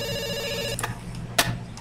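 A telephone ringing in a video game, a bright electronic ring tone sounding steadily with two sharp clicks or bursts partway through, moderately loud and alone.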